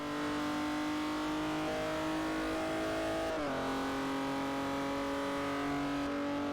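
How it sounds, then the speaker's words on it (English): Saab 9-3 Turbo X engine in Forza Horizon 4 pulls hard in third gear at about 100 mph, a loud sustained drone rising in pitch, with a brief dip partway through before it climbs again. "We've got 100 miles an hour there in third gear, and the car is still pulling."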